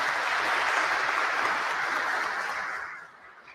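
An audience at a Free Julian Assange event applauds an arriving panelist, Lauri Love. Steady, full crowd clapping holds for about three seconds, then tapers off and fades near the end.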